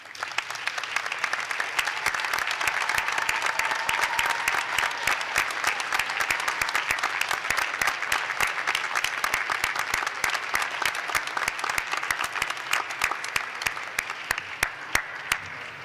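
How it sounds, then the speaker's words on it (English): Sustained applause from a large commencement audience at a university graduate ceremony, graduates clapping for standing families and friends; dense, steady clapping that stays even and fairly loud throughout with no speech over it. "the graduates may show their appreciation by a round of applause"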